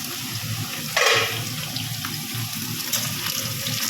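Tap water running into a sink while hands are washed before cooking, a steady close splashing stream with a sharper gush near the start and no talk.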